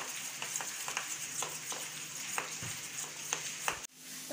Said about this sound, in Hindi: अच्छी तरह मिक्स कर देना है इसे बैटर को